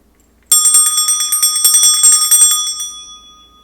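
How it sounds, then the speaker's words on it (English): A bright metal bell is struck and rung rapidly several times, its clear tone shimmering and fading out over a few seconds in a quiet room. "I'm going to start by clearing the energy with my bell."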